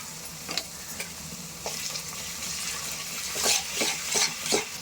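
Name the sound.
onion, ginger and garlic frying for chicken gravy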